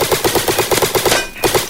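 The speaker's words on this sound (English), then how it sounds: "I actually like the AK." Rapid automatic AK rifle fire from a Roblox airsoft game: a loud, close, steady burst of evenly spaced shots, a short pause, then another shot near the end.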